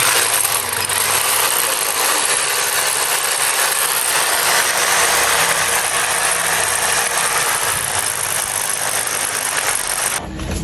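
An electric drill bores a hole into a cylinder, with a loud, steady, close-up whirring grind that runs unbroken for about ten seconds before cutting off at the end.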